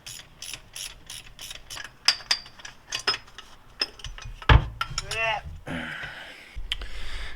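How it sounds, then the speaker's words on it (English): A socket ratchet clicks in quick bursts of pawl ticks while loosening the serpentine belt tensioner bolt on a Chevrolet Canyon Colorado, with metallic tool clatter and brief talk in between. "I'm just gonna get a regular socket on there because it's not on very hard."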